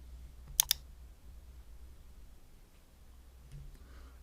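Two quick sharp mouse clicks close together near the start of the clip and another faint one later, selecting an on-screen button in a Teams reading-progress assignment, against a quiet background with a low hum.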